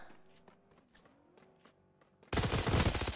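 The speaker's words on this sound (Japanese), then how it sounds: "後ろからの発砲、ロアが1枚持っていく。" A loud burst of rapid gunfire from behind erupts near the end in the video game Knives Out, following quieter scattered footsteps and clicks.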